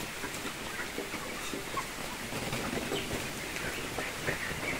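Chickens on a poultry farm cluck and stir in a dense, steady flock clamor, with occasional wing flutters, holding a constant level throughout.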